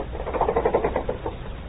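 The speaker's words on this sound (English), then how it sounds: "Have you ever wondered what makes that shade unwind?" Window shade unwinding as a radio sound effect, a rapid fluttering rattle of small clicks, close and steady, with a muffled, narrow-band tone.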